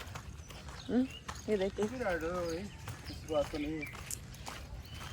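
Horses set out on a riding outing, hooves clip-clopping at a walk in scattered steps, partly masked by someone talking over them.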